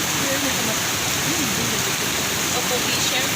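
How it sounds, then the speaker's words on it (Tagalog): Rain falls on a beach as a dense, steady hiss of constant loudness, with faint voices murmuring beneath it. "It's raining. Inabot kami ng ulan dito sa beach."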